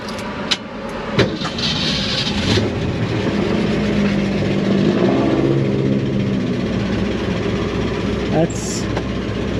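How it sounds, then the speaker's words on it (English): A 1988 Brougham car engine idles steadily with a faint mechanical ticking, a few sharp clicks and knocks standing out near the start and end. "I hear engine ticking and more serious problems than that"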